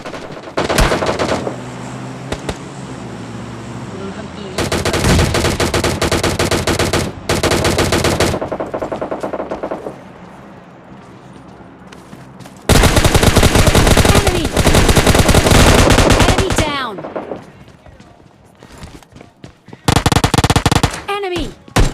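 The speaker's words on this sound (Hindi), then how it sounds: "ड्रॉप पर जाते ही पीछे वाले रेड हाउस से कुछ गन साउंड आते हैं" Gunfire in the mobile battle royale game PUBG Lite: long bursts of rapid automatic fire and single shots, loud and close, in several stretches separated by brief quieter gaps, with talk partly underneath.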